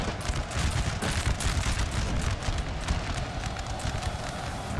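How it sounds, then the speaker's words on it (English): Napoleonic cavalry charging on a Napoleon: Total War battlefield: a dense, continuous rumble of many galloping hooves mixed with scattered musket fire. "This cavalry here is sacrificing themselves to hold the French army in place."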